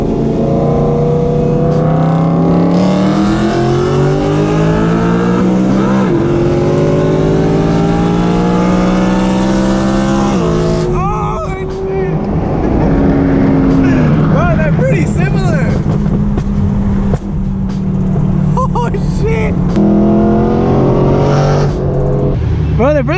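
A BMW M3 and an Audi R8 with V8 engines and loud exhausts accelerating hard side by side in a race, engine notes climbing through gear shifts and holding a loud sustained roar for over twenty seconds.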